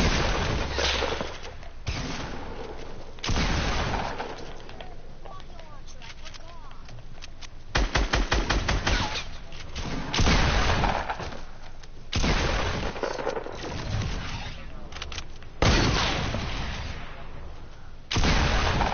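Shotgun blasts and gunfire in a battle royale video game. Heavy booming shots and bursts of rapid fire come in separate loud clusters, with footsteps and other game sounds between them.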